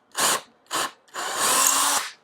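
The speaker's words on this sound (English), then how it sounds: "Keep your drill as square as you can." Power drill boring into a wooden board during table building, two short bursts followed by a longer sustained whir, close and loud with no talking.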